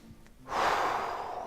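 A single deep breath, drawn in slowly and audibly and then held as a long airy exhale, close and alone with no voices.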